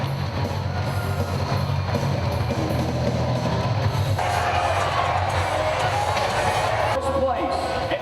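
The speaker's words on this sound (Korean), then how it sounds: "전년도 우승자들이 무대 위로 등장하자 관중들은 환호성이 터지기 시작합니다" A crowd at a professional fishing tournament cheers and whoops as past champions walk onto a stage, a loud, steady roar of voices that swells brighter midway and carries on for the whole stretch.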